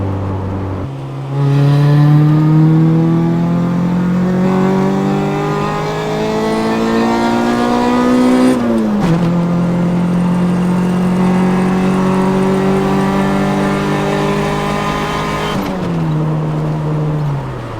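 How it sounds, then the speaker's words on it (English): A 1994 Honda Civic EG hatchback's VTEC engine revs hard and loud, pitch climbing steadily, dropping briefly at a gear change, then rising again smoothly through the VTEC crossover, with a second shift near the end. "I really like the VTEC crossover."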